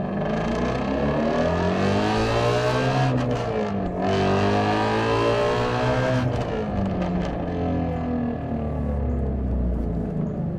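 Ford Mustang engine revving loudly and up close, a deep throaty roar that swells and falls across several rev sweeps with harmonic whine, heard alone without speech.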